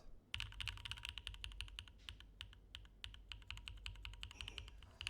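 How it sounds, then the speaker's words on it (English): Rapid typing on a mechanical keyboard with a resonant case, a dense run of sharp, close key clacks with hollow low thock, fairly quiet and with no voices. "I love hearing the case on this keyboard."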